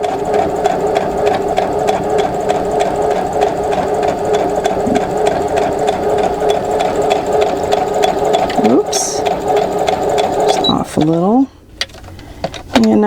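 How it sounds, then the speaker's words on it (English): A sewing machine stitches a quarter-inch seam along a marked line on a nine-patch quilt block, a loud steady close whir with rapid needle rhythm that halts near the end, followed by a few squeaky mechanical sounds. "I'm going to go ahead and sew on one side of the black line, like I said, a 1/4 inch."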